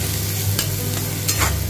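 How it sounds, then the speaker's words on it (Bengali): Sliced onions with sugar sizzling in a hot pan while being stirred, a continuous close crackle with scraping strokes of the spoon, no voices. "চিনি দেওয়ার পরও ভালোভাবে এটা ফ্রাই করে নিচ্ছি।"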